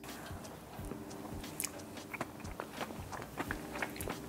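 Chocolate cream cheese frosting being eaten, with soft close-up chewing and mouth clicks repeating irregularly over a quiet background.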